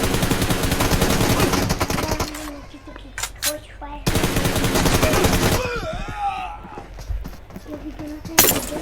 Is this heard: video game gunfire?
yes